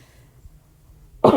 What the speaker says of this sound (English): don't know what this cough is